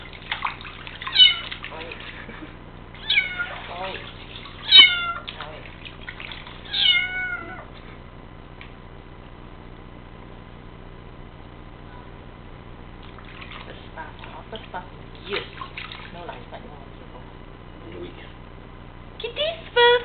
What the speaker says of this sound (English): Kitty's first bath in 7 weeks.